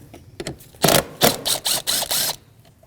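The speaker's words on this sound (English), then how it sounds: "Now with that 10mm socket, we're going to undo this mounting bolt right here." A 10mm socket wrench works a mounting bolt loose on a 2010-2024 Toyota 4Runner 4.0L engine, heard as a series of close, rhythmic ratcheting bursts of about half a second each.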